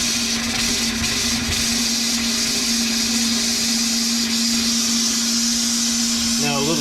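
Compressed air blowing out the water lines of a travel trailer during winterizing, a loud, continuous rushing hiss with a steady hum, close up throughout.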